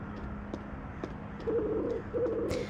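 In a Da Vinci Code video game, a pigeon gives two short cooing bursts in close succession over a low steady hum, with soft ticks scattered around them.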